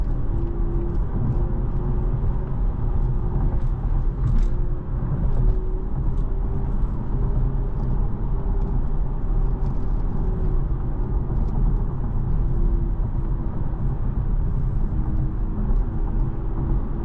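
A 2022 BMW i4 M50 electric sedan driving at night, heard from inside as a steady low road rumble and tire roar with a faint motor whir, constant and unbroken.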